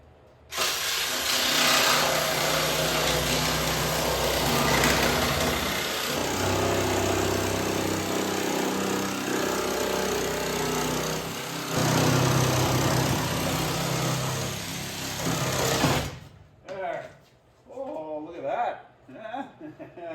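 Small power saw cutting wood during an interior upgrade of a 1966 Belvedere, a loud steady whining buzz running for about fifteen seconds before cutting off, followed by someone talking.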